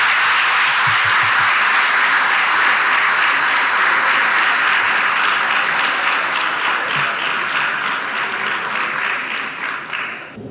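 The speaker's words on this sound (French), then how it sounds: "Sous vos applaudissements." A large audience claps loudly at the closing ceremony of a scientific meeting at a faculty of medicine in Port-au-Prince, Haiti. The dense, sustained applause thins and fades out toward the end.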